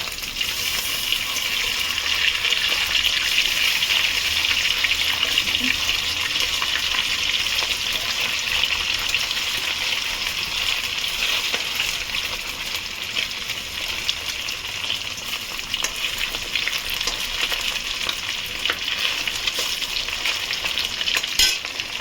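Chicken pieces frying in hot oil, a loud, dense, unbroken sizzle close up that holds steady for the whole stretch with no talking.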